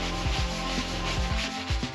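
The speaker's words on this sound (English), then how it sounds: "Now I just gotta sand it." Sanding a homemade pickleball paddle made of pickles, with steady rough rubbing strokes repeating in a quick back-and-forth rhythm, close up and with no talking.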